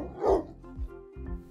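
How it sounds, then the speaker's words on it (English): Peruvian hairless dog barking, three close, loud barks spaced out over a short moment with no talking. "Pauly is a Peruvian hairless dog."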